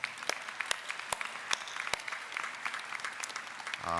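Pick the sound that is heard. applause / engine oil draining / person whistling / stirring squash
applause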